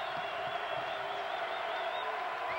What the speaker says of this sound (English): There isn't a person in this building that's not cheering loud.